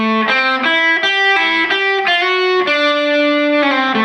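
An electric guitar with distortion and effects repeats the two opening phrases of a solo, a quick run of legato notes with slides and pull-offs, loud and up close.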